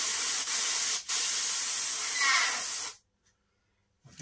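Airbrush spraying paint through a rivet stencil, a steady close hiss lasting about three seconds with a brief dip, then cutting off to near silence.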